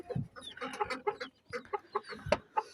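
A rooster on a poultry farm calls loudly and repeatedly right after being let out in the morning, its clucks and calls coming in close, uneven bursts alongside other fowl.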